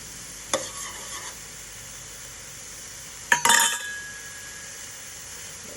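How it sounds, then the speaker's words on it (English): Two eggs dropped into a hot pan of drying fried rice and scrambled, with a brief clink and stir near the start, a louder burst of scraping and sizzling mid-way that fades into a steady faint frying hiss. "So I'm going to drop some eggs."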